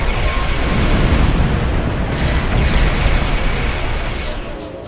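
Starship weapons fire and explosions in the Star Trek Online video game, a Klingon Empire space battle: a loud, continuous roar of blasts and booming impacts, sustained throughout and fading slightly at the end.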